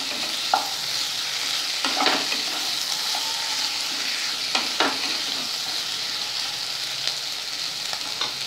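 Cumin powder and slit green chillies sizzle in a hot pan while cooking prawn spinach. A steady, close frying hiss runs throughout, broken by a few sharp stirring clicks and scrapes.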